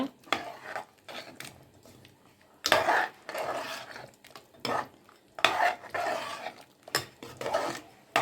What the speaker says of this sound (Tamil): சேர்த்து இப்போ நல்லா கிளறி விட்டுக்கோங்க.